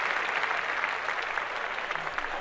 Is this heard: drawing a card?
no